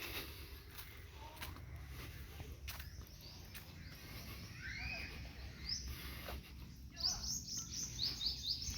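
Caged birds at a lakeside resort chirp in short, high bursts that grow busier and slightly louder toward the end, over a faint, steady outdoor background.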